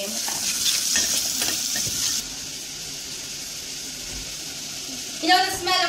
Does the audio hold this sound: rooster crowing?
no